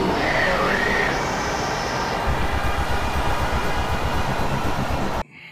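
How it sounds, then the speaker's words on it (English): A subway train in a movie scene rumbles and clatters steadily along the rails with rhythmic wheel thumps and a brief high squeal, loud and close, before cutting off abruptly near the end. "He's riding the subway, to go to work, I think."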